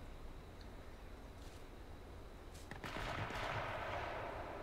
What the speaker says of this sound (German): Die Schüsse waren west-südwestlich.